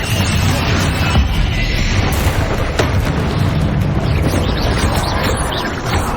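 Repeated fiery spell blasts from the Confringo curse in Hogwarts Legacy, a continuous loud barrage of booming bursts and crackling impacts layered over each other with no pause.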